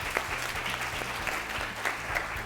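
An audience at a school quiz competition claps for a team, steady sustained applause from a crowd in a hall, fairly close and even throughout.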